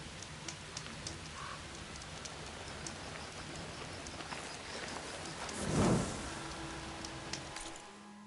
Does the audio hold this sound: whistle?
no